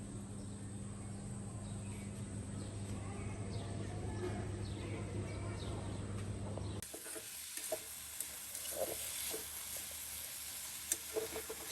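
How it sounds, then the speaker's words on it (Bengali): Sajna shutki, dried fish, frying in a pan, a quiet sizzle with intermittent stirring scrapes after a midway cut, faint bird coos in the background. "সাজনা শুটকিটা কষিয়ে নিচ্ছি।"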